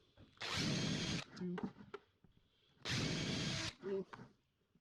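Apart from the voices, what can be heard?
power drill boring pilot holes in a plastic bucket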